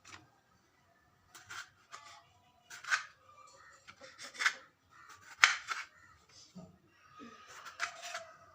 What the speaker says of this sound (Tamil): இந்த மாதிரி சின்ன சின்னதாக கட் பண்ணணும் நீட்டமாக.